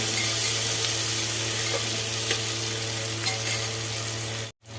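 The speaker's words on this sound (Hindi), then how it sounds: "इसको थोड़ी सी हल्की फ्राई करेंगे, ज़्यादा नहीं, हल्का फ्राई करेंगे 1 मिनट।" Food sizzling steadily in a pan of oil while it is lightly fried for a pulao, with a dense continuous crackle, occasional soft stirs, and a sudden cut to silence near the end.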